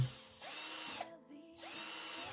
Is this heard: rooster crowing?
no